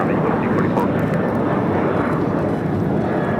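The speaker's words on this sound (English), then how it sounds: "This is American Airlines 1899 taking off to Indianapolis on the 737-800." An American Airlines Boeing 737-800 bound for Indianapolis takes off from Los Angeles airport, a loud, close, continuous jet engine roar with dense rumble and hiss, steady for the whole stretch, with no talk over it.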